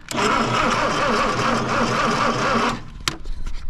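An old 1963 Plymouth Belvedere engine, unused since 1978, cranks steadily on its starter with a loud, rapid mechanical churn for almost three seconds, then cuts off, followed by a click and quieter noise.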